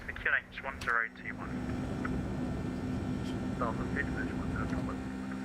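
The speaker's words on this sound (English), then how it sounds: "Fantastic noise from those engines." Boeing 757 jet engines in the X-Plane 11 flight simulator, a steady broad roar that fills the cockpit background after a brief spoken line at the start.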